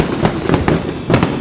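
Firecrackers burst in a cartoon, a rapid string of sharp, loud cracks and pops at irregular intervals over a constant crackling hiss, with no speech.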